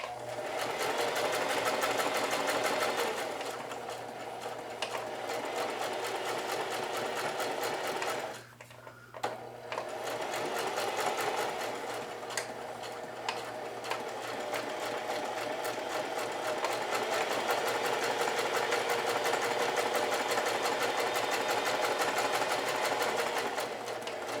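A sewing machine stitches an apron in a steady, continuous mechanical whir that runs for most of the stretch, with one brief pause partway through before the stitching resumes at the same close, even pace.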